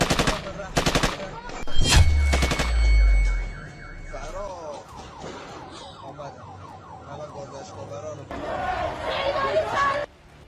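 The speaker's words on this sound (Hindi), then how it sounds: "बाइक सवार पुलिसकर्मी उनका पीछा करके दौड़ती भीड़ पर गोली चला देता है" Sharp bursts of police gunfire at a fleeing crowd in Iran ring out amid chaotic crowd noise and a siren-like wail, with shouting voices throughout, loud and close.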